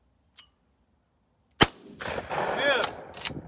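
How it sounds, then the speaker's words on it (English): A shotgun fired at a clay target gives one loud, sharp blast that is followed by shouting and voices from people nearby, with a faint click a moment before the shot. "Hey, you can double shoot Bradley, you know, right"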